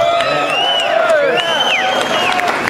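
A rally crowd at a gun-rights keynote event cheers and whoops loudly for a few seconds, with overlapping shouts and no clear clapping rhythm.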